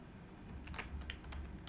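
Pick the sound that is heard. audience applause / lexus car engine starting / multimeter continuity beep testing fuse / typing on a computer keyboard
typing on a computer keyboard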